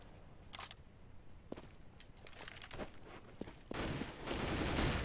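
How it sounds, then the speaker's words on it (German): AWP sniper rifle shots in Counter-Strike on de_dust2, several sharp isolated cracks spread across a few seconds amid quieter game noise and footsteps, growing busier toward the end, with no talk. "Schöne AWP-Shots"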